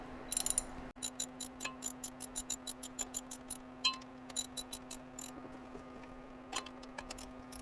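Ratchet tightening power steering line fittings on a C3 Corvette, a close series of quick clicking pulls in short bursts over a steady low hum.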